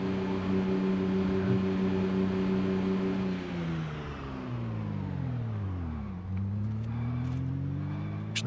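A car drives in the zombie survival game Project Zomboid: a steady engine drone holds, then dips and bends in pitch as the car turns sharply. Faint, brief tire squeaks appear near the end, with no talking.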